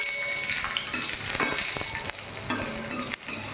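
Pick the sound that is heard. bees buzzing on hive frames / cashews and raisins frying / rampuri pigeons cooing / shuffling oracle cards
cashews and raisins frying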